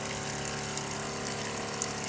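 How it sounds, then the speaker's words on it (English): Water running steadily from a sink tap fed by a Joolca portable water heater, a continuous close rushing flow with a faint pump hum underneath. "My water pressure has come back on"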